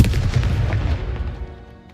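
A Confringo explosive spell bursts in Hogwarts Legacy, a loud sharp blast whose boom fades away over about two seconds.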